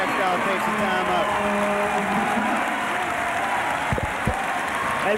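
A large crowd at a 1992 NCAA regional final men's basketball game cheers and applauds in a sustained roar, with a commentator talking over it and a couple of sharp thuds near the end.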